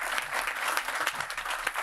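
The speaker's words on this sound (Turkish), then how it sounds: "Of yayınlayamayacağım şeyleri çok alkışlıyorsunuz ya." Applause from a stand-up comedy audience fills the room for the full stretch, a steady dense clatter of clapping hands at moderate loudness with no voices over it.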